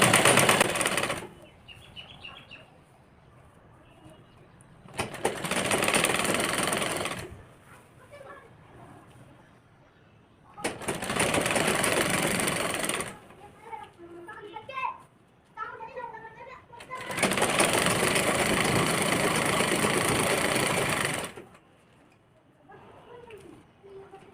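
A sewing machine stitches lining into a girl's skirt in long loud runs, four bursts of steady whirring separated by pauses where a voice and household sounds come through.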